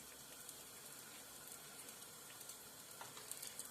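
Steady, faint sizzling of cabbage-filled custard-dough pies frying in hot oil over medium-high heat, a continuous crackling hiss with no voices.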